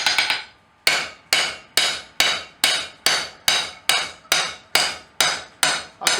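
Repeated hammer blows on hot steel as a blacksmith forges a nail header tool, a quick flurry followed by about a dozen evenly spaced, loud ringing strikes, each decaying before the next.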